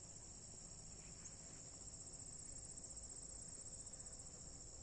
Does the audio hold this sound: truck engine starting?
no